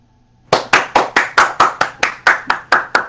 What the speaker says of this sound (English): just starts clapping